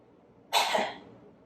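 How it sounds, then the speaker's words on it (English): A single sharp cough from a woman in her third trimester of pregnancy, close and abrupt, then a brief trailing breath into quiet. "And it's going to sound a little funny, but cough."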